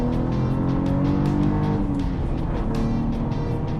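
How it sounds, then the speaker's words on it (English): A 2022 Cadillac CT4-V Blackwing's engine pulls hard, its dense rising and falling roar layered with harmonics and short sharp upper bursts like shifts, loud and close throughout with no talking. "The engine note is easily heard"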